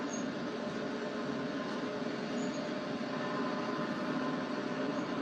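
A train in Train Sim World 2020 on the Northeast Corridor route near New York runs with a steady broadband rumble and rail noise, constant and fairly loud throughout, with no talking.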